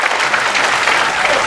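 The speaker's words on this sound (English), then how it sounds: "Yeah, but why are you clapping?" An audience breaks into dense, continuous clapping at a spiritual gathering in Hawaii, loud and close throughout the short burst.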